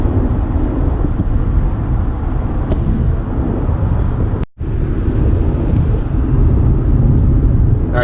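A car drives along Alligator Alley in Florida with a loud, steady road roar and buffeting wind rumble that barely changes, cut by one brief dropout partway through, and no talking.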